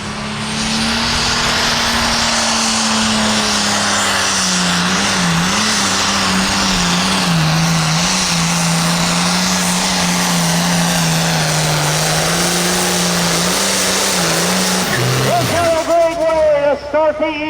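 Hot farm tractor roars at full power down the track at a county fair tractor pull, a loud sustained engine drone with pitch wavering throughout, a crowd and announcer's voice faintly beneath, and a sharp change near the end as the run finishes.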